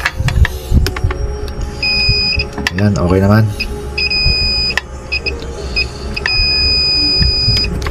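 A multimeter continuity buzzer sounds in three sustained high-pitched beeps, each about a second long, while testing a diode in a charger, as a person talks over clicks and handling noise.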